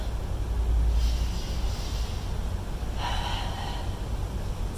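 Breaths are pushed out audibly during a yoga boat pose, two close, breathy exhales with a soft hiss between them.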